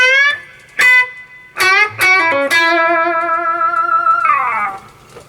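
Electric guitar riff played with bends, a pull-off, a slide and vibrato, sounding alone and close: a few sharp plucked notes followed by a long sustained vibrato note that slides down at the end.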